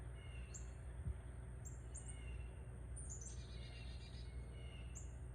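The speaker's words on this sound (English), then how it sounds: "As I sit out here listening to the birds and find the peace" Birds chirp and sing outdoors in short, high, scattered calls over a steady background hiss, faint and distant, with no voices.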